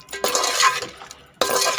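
A spoon scrapes and clinks against a pan as masala is stirred and roasted for chicken pulao. Two bursts of metallic scraping are separated by a brief quiet gap.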